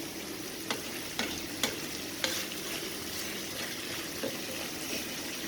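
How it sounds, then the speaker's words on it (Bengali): A soft, steady sizzle of fish frying slowly in a pan, broken by a few light taps of a utensil, fairly quiet and close. "এইভাবে আমি মাছগুলো আস্তে আস্তে কষিয়ে নেব"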